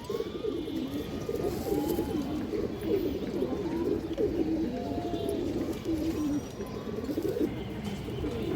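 Black-necked pigeons coo steadily in repeated low calls, close and continuous, with no talk over them.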